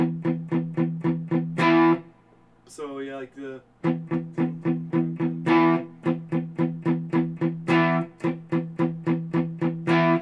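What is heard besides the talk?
distorted palm-muted electric guitar power chords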